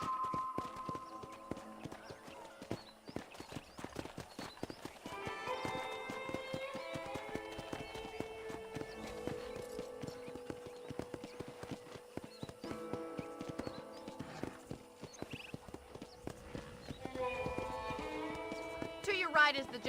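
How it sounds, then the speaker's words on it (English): Horse hooves clip-clopping at a steady pace while riding in the Red Dead Redemption video game, quiet and continuous beneath layered in-game music and character dialogue. "let's see if you can still ride a horse"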